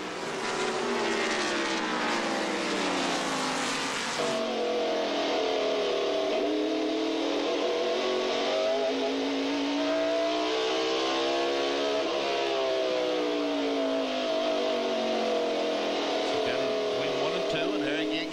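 Stock cars roar loud and continuous through a 1994 NASCAR Goody's 500 race, engine pitch sweeping up and down as cars pass through corners, with race commentary running over the engine noise throughout.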